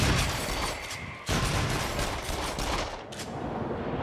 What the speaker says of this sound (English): I got a shotgun now.